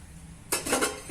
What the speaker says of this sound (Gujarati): શાક વઘારવા માટે આપણે પેન મૂકી દીધી છે